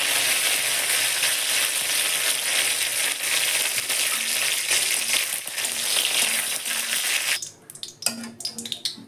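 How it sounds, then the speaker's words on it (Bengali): Curry leaves with ridge gourd and potato peels fry in hot mustard oil in a wok, a loud, even, hissing sizzle for several seconds that abruptly drops to quieter crackles and stirring scrapes near the end. "কড়াতে সর্ষের তেল দিয়েছি, গরম হয়ে গেছে। কারি পাতাটা দিয়ে দিলাম।"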